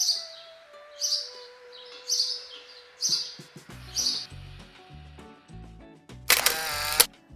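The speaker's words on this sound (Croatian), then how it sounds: "Poljski vrabac." Eurasian tree sparrow chirping in short, evenly spaced chirps, about one per second, over gentle background music, ending in a brief loud burst of higher chirping.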